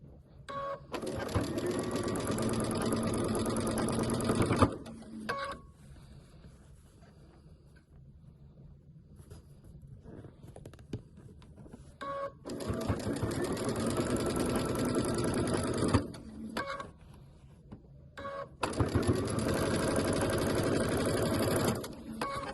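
A sewing machine stitches pieces of a Lemon Star mini quilt in long loud whirring runs separated by quiet pauses, with small clicks and handling noises between bursts.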